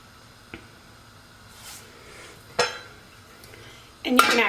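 A single popcorn kernel pops in a stovetop pot, a sharp crack near 2.6 seconds followed by a louder burst of clatter at the end, with faint knocks and quiet room noise in between.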